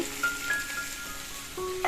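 Panch phoron spices sizzle in hot oil in a black wok, a quiet steady crackle with faint stirring scrapes, no talk.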